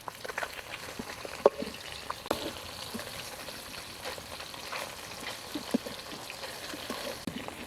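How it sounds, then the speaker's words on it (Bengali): Katla fish fries in white (refined) oil for a Bengali rezala, giving a soft, steady sizzle and crackle throughout with occasional louder pops, fairly quiet and close with no talking. "মাছগুলো আমি হালকা করে ভেজে নেব"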